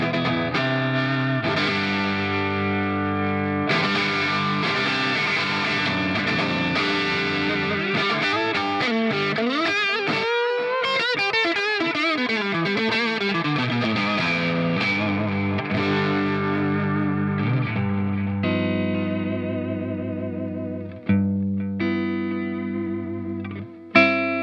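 Electric guitar played through an Atomic Amplifire with the pedal boost off, a distorted tone with chorus-like shimmer, sustained chords and bends ringing close and alone, ending on a final strum.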